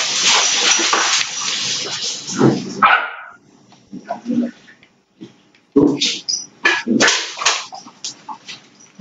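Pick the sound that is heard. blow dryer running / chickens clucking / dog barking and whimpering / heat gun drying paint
dog barking and whimpering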